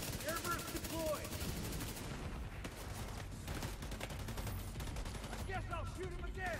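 Dense rapid gunfire from The Division 2 rattles nearly nonstop, loud and close, with sustained automatic bursts and a brief lull midway before the shooting surges again under faint game sounds.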